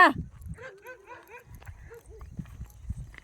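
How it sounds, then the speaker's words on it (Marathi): Dogs bark a few times at a distance, faint against outdoor background noise. "इथं आहेत कुत्रे कुत्रे भोंकलेले आहेत"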